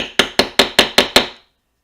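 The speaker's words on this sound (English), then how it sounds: "And I'm going to hammer that." A hammer striking an eyelet setter into paper craft, six sharp, evenly spaced taps in quick succession, close and loud, followed by silence.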